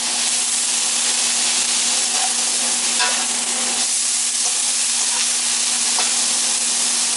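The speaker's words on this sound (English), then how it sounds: "throw the mushrooms in there now, I guess." Mushrooms sizzle in a hot frying pan, a loud steady hiss of frying with a few scraping stirs breaking through, close and continuous without any voices.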